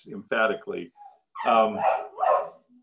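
A pet dog barks and yips a few times at home, close by, interleaved with and under a man's continuing speech.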